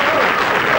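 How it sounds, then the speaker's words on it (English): Studio audience applause, a loud, dense, continuous burst of clapping close by. "A big round of applause."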